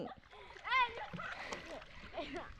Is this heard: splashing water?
yes